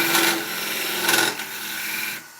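A skew chisel squares off an ash wood fruit bowl turning on a lathe, giving a steady close rasping scrape with two brighter bursts, then tailing off near the end.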